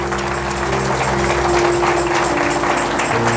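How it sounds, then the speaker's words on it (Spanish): A church congregation claps together in a steady, dense burst of applause, sustained and fairly loud throughout with a low musical drone beneath. "Denle un fuerte aplauso a Dios"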